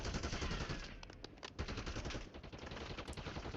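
Rapid machine-gun fire in a shooter video game: dense, continuous bursts of gunfire, briefly thinning before resuming, with no talking.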